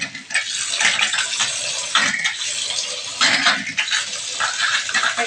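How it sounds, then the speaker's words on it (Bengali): Fried fish pieces dropped into a simmering fish curry with water, giving a steady bubbling, gushing liquid sound with small splashes, close and loud throughout. "এবার ভেজে রাখা মাছগুলো তরকারির মধ্যে একে একে ছেড়ে দেবো।"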